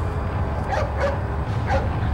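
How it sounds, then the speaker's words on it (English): A dog barks and yips in Resident Evil 4 during the El Gigante fight, several short sharp barks spread across the moment over game background noise. "if you helped out the wolf or the dog at the beginning of the game, he comes here and helps you out in this fight"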